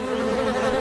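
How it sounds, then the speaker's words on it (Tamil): Bees buzz steadily around a beehive in an animated children's story, a dense, continuous drone that holds close and loud throughout the short moment. "தேனீக்கள் பறக்கிறத பார்த்தா பக்கத்துல தான் எங்கேயோ தேன் கூடு இருக்கணும்னு நினைக்கிறேன்."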